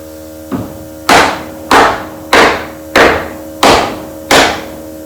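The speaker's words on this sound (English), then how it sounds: "You want to get the hammer and just hammer it" Six sharp hammer strikes at a steady, even pace after a lighter first tap during an off-grid cabin build, each ringing briefly, with a faint electrical hum underneath.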